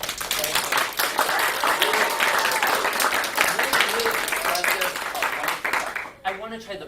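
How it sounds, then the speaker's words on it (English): At a violin masterclass, an audience claps in steady, dense applause lasting several seconds, filling the room before fading out, with a voice at the end. "I think we should give you a round of applause for it."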